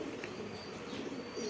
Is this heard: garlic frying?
no